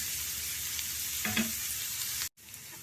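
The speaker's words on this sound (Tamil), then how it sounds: "சின்ன ஆனியன் கொடை மிளகாய் எல்லாம் போட்டு அதில் அப்படியே வதக்கிடலாம்" Small onions and capsicum sauté in a hot pan with a steady, close sizzle and some stirring, then a brief cut-out near the end before the frying noise resumes.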